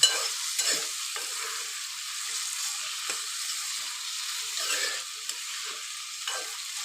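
Boiled radish being stirred in a hot pan for mullangi fry, with a steady sizzle of frying under repeated scraping and stirring strokes, close and moderately loud, with no talking.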